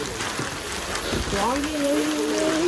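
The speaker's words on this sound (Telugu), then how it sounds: "వర్షం పడుతుంది ఫుల్గా" Heavy rain pouring down along a forest road among bamboo, a dense, steady hiss of falling drops close by, with a person speaking over it partway through.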